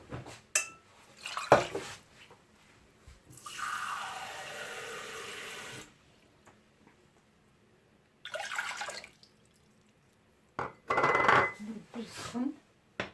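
Water poured into a cooking pot for rice: two separate splashing pours a few seconds apart, each a few seconds long, with clinks of the pot and cup between them and some brief voice sounds.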